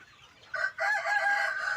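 Chinese big-foot chickens clucking and a rooster crowing nearby, a steady run of calls after a brief quieter start, with faint farmyard background.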